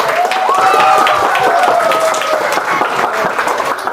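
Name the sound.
applause for two children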